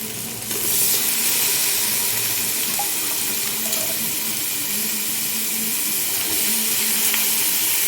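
Water poured into a pot of soaked rice for a homemade biryani, a steady continuous splashing pour with a sizzle-like rush that holds at an even level throughout, alone without talk.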